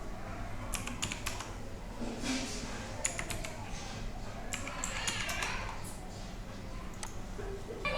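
Typing on a computer keyboard while filling in an online application form, with a steady run of soft, close key clicks and small bursts over a constant low background hum.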